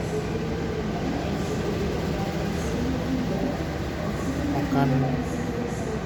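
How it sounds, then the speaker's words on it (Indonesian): A CC 206 diesel locomotive from the Cirebon depot idles at a station before shunting, its low engine rumble steady and fairly near while someone talks over it throughout. "ini lokomotif yang berdinas kali ini CC 206 1359 Dipo Induk CN Cirebon"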